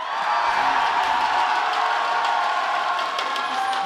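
Large crowd at an esports tournament cheering and screaming continuously, a loud sustained roar with whoops throughout and no pause.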